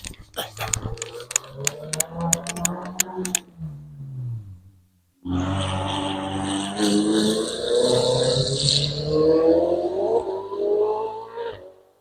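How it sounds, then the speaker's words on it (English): A Ferrari races up the Loton Park hill climb course during an interclub championship, its engine rising in a loud, sustained howl that holds for several seconds. "Gosh, that thing sounds crazy."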